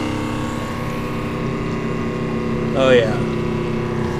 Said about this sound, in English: You can hear the machine, the pump, you can see it, the water.